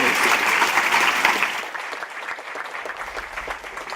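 Audience applause for a music conference panel: a full burst of clapping that thins out and fades after a second or so into lighter scattered claps.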